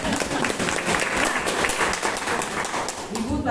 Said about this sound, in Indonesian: Tepuk tangan gitu.